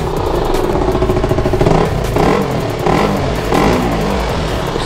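A KTM RC motorcycle engine with a burnt piston runs close by, revving in a few bursts over a rough, steady idle.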